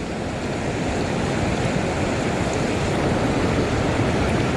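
Steady, loud rushing water roars without pause, a dense broadband wash like a fast river or falls close by, with no voices.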